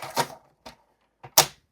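A paper cutter scoring paper for a handmade gift card holder gives a few close, crisp clicks and snaps, irregularly spaced, with brief scraping between them and no talking.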